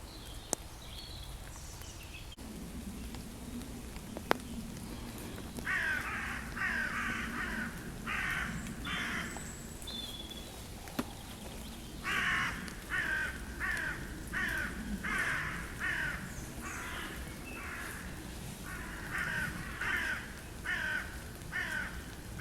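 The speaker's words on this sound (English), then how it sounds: "The rain has stopped, so the birds are singing again." Repeated harsh crow caws come in bursts, mostly pairs and short runs, over steady low background noise, moderately close, in a Kent woodland after rain in May.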